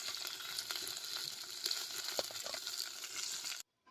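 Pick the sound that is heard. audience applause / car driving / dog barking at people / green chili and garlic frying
green chili and garlic frying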